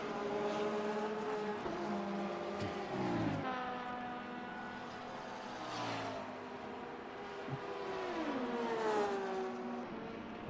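Number 77 Porsche LMDH race car lapping in a racing game at Spa, its engine droning steadily with rising and falling pitch through gear changes and revs, loud and close throughout.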